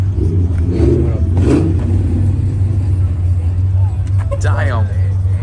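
A Mustang or BMW engine rumbles loudly at a nighttime car meet, holding a low steady drone with a rise in revs, while people nearby talk and exclaim over it.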